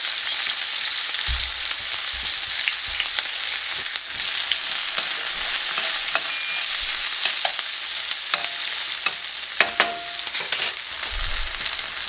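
Julienned onions cooking in olive oil in a hot pan for a mushroom and onion flatbread, with a loud continuous sizzle close by and occasional crackles and pops, and no talking.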